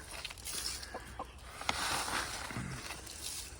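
Backyard hens clucking softly while feeding on grubs, their low intermittent calls close by over scratchy ambient noise.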